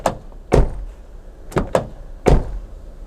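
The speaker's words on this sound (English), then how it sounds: "listen to the sound of the door" A 2024 Hyundai Tucson door is shut several times in a row, each closing a solid, heavy thunk with a slight rattle, close and loud.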